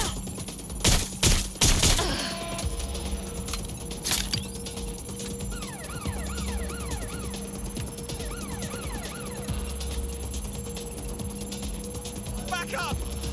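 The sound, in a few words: gunfire in the video game Watch Dogs: Legion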